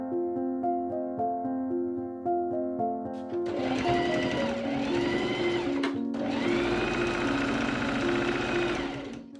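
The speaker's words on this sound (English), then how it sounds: "I machine sew the other front facing seam." A sewing machine stitches the front facing seam of a corset in two fast, whirring, rattling bursts separated by a brief pause, heard close. Soft melodic background music plays first and continues beneath the machine.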